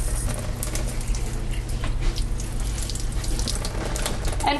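Water pouring into a sourdough starter of flour and water, a steady close splashing trickle with no talk.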